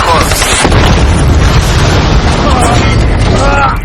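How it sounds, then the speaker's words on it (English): Missiles launched and detonating in a Transformers film battle scene, a loud continuous barrage of booming blasts and rumble filling the whole stretch, with shouted voices mixed in. "Missiles out, danger close."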